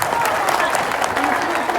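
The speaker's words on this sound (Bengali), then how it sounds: "জোরে হাততালি হবে" Loud applause from an audience of schoolgirls and guests at a school event, dense steady clapping filling the whole moment with some crowd murmur.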